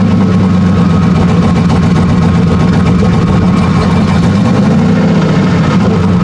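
Car engine running steadily with a low droning rumble, loud and close, with a slight rise in pitch near the end as the throttle is pressed.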